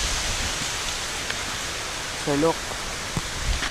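Strong wind sweeps through a village ahead of rain, a steady, loud rushing roar that fills the whole stretch, with one person speaking briefly over it.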